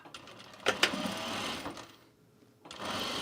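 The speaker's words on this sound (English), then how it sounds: "I'm just stitching this in the seam allowance here" A sewing machine stitches along the seam allowance of a duffle bag in short bursts of motor whir with a couple of sharp clunks, pausing briefly before running again, close and moderately loud.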